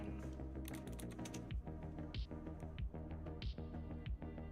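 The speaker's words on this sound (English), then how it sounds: "let me try typing something in" Computer keyboard typing on a chat window, a few quick clicks scattered under steady background music at low volume.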